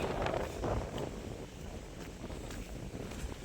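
Strong storm wind buffets the microphone in rough, rumbling gusts, loudest at the start and continuing unevenly throughout.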